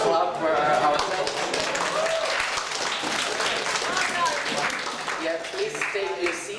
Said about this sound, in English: So let's clap ourselves.